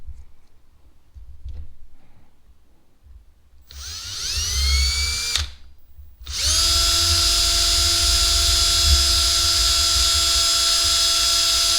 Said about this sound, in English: I'm actually going to drill this out to the 5/32, so these two holes will be the same